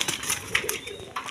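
Pigeons kept for sale stir close by, giving soft coos and brief bursts of flapping wings in an irregular, fluttery patter with no talking over them.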